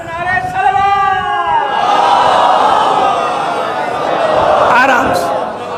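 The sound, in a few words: crowd chanting religious slogans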